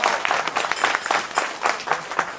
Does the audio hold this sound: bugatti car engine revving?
no